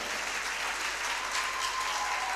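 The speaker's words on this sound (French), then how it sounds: "Applaudissez pour le Seigneur." A church congregation applauding together, steady, dense clapping throughout at a moderate distance with no pauses.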